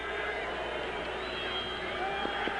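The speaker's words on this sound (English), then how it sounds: "And the crowd gets louder on 3rd and 15" A football stadium crowd roars during a 1995 college game between the UND Sioux and NDSU Bison on a 3rd and 15, as a steady, swelling wall of cheering noise with faint talk underneath.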